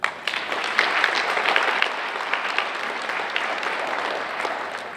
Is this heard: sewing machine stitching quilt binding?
no